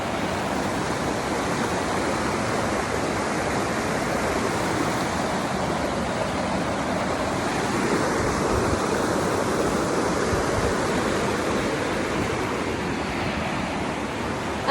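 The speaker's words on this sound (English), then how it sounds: "I don't know if the creek's gonna be too loud" Loud, steady rushing of a creek's flowing water, a broad continuous roar close by with no pauses and no voices.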